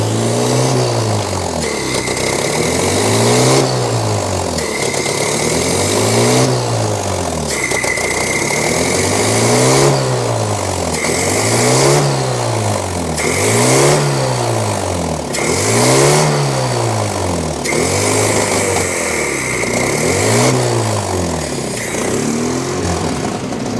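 A 1983 Toyota engine in a long-abandoned barn-find car revs up and down repeatedly in a steady rhythm of about a dozen swells, loud and close, with no talking over it.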